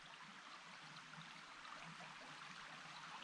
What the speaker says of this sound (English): the babbling brook